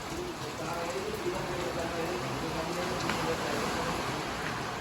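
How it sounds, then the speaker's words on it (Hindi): Heavy rain pours steadily outside a home, a dense continuous hiss filling the background without pause. "बारिश हो रही है बहुत तेज बाहर"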